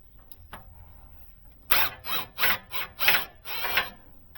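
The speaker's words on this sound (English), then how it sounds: "We're just going to tighten them down." Tools tighten the accessory belts on a Toyota engine with a supercharger: a faint tap, then about six rhythmic rasping, ratcheting bursts, close and fairly loud.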